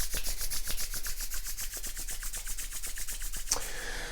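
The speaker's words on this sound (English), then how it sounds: "So let's rub our hands together." Two palms rub briskly together in a quiet room, a close, dry, rhythmic swishing of about four strokes per second that stops abruptly near the end, with no talking.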